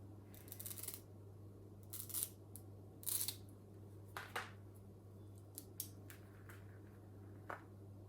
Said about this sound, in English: going to cut between the nodes